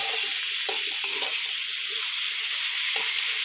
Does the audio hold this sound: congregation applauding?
no